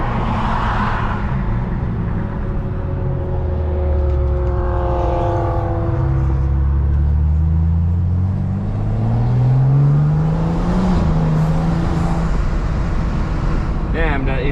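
Turbocharged BMW 440i running on E30 fuel, its engine and intake rising and falling through revs in a long, steady drone with sweeping pitch changes, close and loud throughout.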